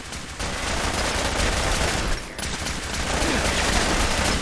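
A weak gun firing in Fallout 4 Far Harbor video game, a loud dense burst of rapid gunfire that continues almost without pause, with one brief gap partway through.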